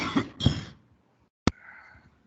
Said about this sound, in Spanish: caramba, esta tos me tienes bien fregado